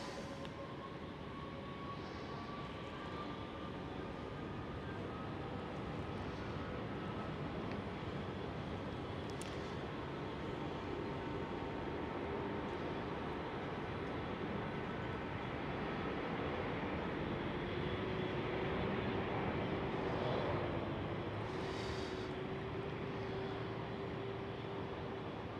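Turkish Airlines airliner taking off at Amsterdam Schiphol, a steady distant roar of jet engines that holds for the whole stretch with slight swells, heard from afar without talk.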